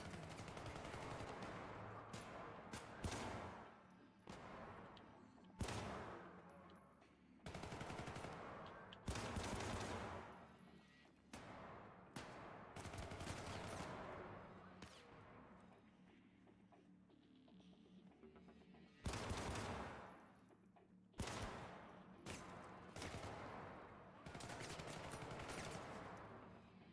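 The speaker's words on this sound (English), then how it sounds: "The Kusanagi rifle's secondary fire penetrates light cover." Video game Kusanagi rifle on secondary fire: long stretches of loud, dense automatic gunfire broken by short pauses, with sharp single reports between bursts.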